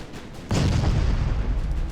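Warship gunfire in the naval battle game Ultimate Admirals: Dreadnoughts, a single heavy boom that lands after a quiet lead-in and rolls into a loud, sustained low rumble.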